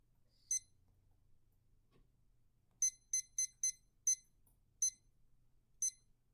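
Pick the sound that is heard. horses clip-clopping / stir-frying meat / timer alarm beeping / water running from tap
timer alarm beeping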